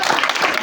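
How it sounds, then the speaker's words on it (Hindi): Dense applause from a crowd gathered for a Shiva wedding devotional storytelling session, a brief loud wash of clapping with no voice over it. "ताली मारो जोरदार बोलो"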